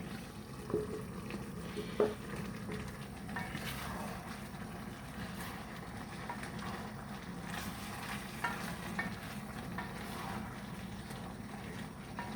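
Aubergines cook in a pan with other vegetables for a homemade ratatouille, making a soft, low sizzle. Occasional stirring knocks and scrapes sound over it, with no voices.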